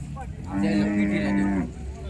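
A bull at a village cattle market lows once in a long, deep moo lasting about a second, fairly close, amid faint market murmur.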